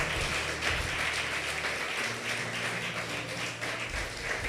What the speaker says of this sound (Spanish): Vamos a dar un aplauso fuerte al Creador